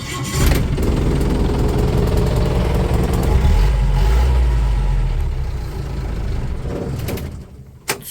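The diesel engine of a 1990 Mahindra MM540 jeep cranks by starter button and starts with a loud rumble, then settles into a steady, throbbing idle close by before a clunk near the end.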